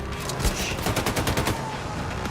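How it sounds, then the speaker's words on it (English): Rapid video-game gunfire on a Linux PC, a dense burst of sharp, closely spaced shots running for about a second amid constant game noise, with no talk. "I don't feel any difference if I'm shooting from gun A or gun B."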